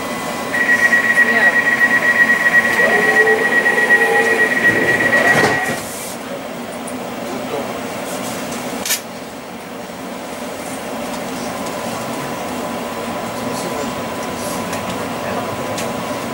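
A Crossrail Class 345 electric train on the Liverpool Street to Shenfield route, near Seven Kings, hums steadily from inside the carriage, with an electronic door tone and a thud early on before the motor drone settles.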